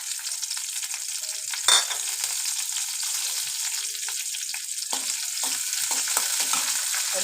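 Chopped ginger, garlic and curry leaves fry in oil in a pan for a Kerala chicken stew, a steady close sizzle with a brief sharp clatter of stirring early on and small scraping touches throughout.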